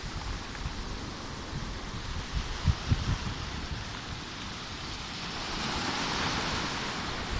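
Sea waves wash onto the shore in a steady, broad surf roar, with a few low thumps of breaking water partway through, growing slightly louder toward the end.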